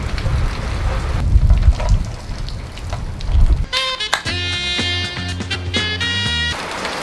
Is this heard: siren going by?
no